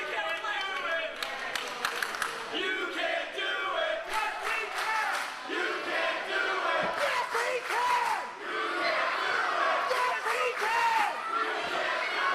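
Capacity crowd at an IWC Reloaded 3 wrestling event roaring and chanting in support of a wrestler, loud and continuous, with shouts and bursts of cheering throughout.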